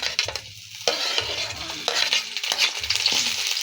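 A spoon stirs sautéed onion, garlic and tomato in a frying pan, with a soft sizzle underneath and several scraping strokes at a close, moderate level and no talk.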